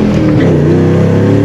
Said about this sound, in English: When I try to get on it, it bogs, then it goes.